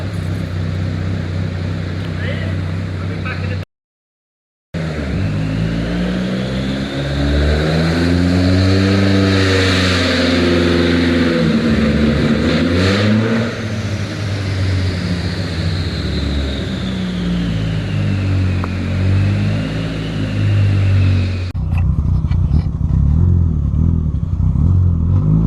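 Peugeot 306 Maxi rally car engine revving hard from inside during a ride-along, loud sweeping rises and falls in pitch through gear changes, a brief dropout, then continued roaring drive.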